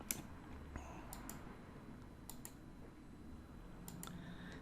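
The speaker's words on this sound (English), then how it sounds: "I'm clicking twice just to select and deselect various faces" Sharp mouse clicks, mostly in quick pairs, scattered over a faint steady room hum while selecting and deselecting faces in 3D modeling software.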